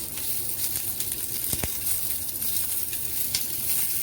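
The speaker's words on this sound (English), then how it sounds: "just fry for a few minutes. Okay, no need to use much oil." Big prawns sizzle steadily in a hot pan with a little oil, a constant crackling hiss with a brief clink near the middle.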